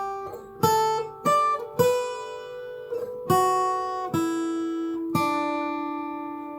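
Fingerstyle guitar plays the underlying outro melody of Randy Newman's When I'm Gone, picked notes sounding one by one at a moderate, unhurried pace, each ringing and decaying, quiet and close with no talking.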